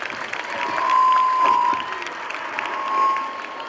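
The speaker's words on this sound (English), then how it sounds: "Please parents, give them a big round of applause." Parents applaud prize winners at a school sports meet, a moderate outdoor clapping that swells, eases and swells again, with a steady tone running through it.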